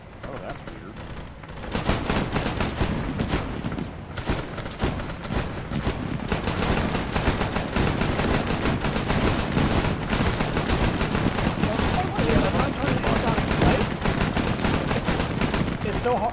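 Sustained rapid gunfire in a Warhammer 40k tactical shooter, dense bursts and overlapping shots running nearly the whole time after a quieter opening, loud and continuous with occasional voice chatter mixed under it.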